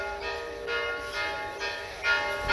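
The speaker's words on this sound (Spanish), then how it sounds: "Ya se está sonando la campana, pues ya casi va a empezar la misa." A church bell in Joyabaj, Quiché rings before mass, with several sustained metallic tolls at a moderate distance. Each one rings on over a faint ambient background.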